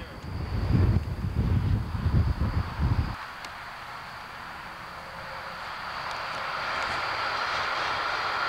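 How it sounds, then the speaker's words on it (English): A small plane approaches to land at Northampton airport in Massachusetts, its engine a steady distant drone rising slightly as it nears, following a few seconds of voices that then fall quiet. "Is that a plane? Where? Landing?"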